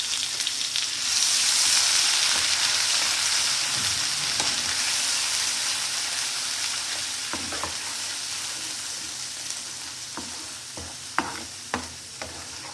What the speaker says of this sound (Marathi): कांदा टोमॅटोचं जे वाटण वाटलं होतं आपण ते टाकायचं आणि छान परतून घ्यायचं याला